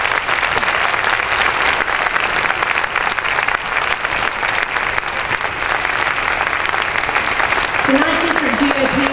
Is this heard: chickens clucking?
no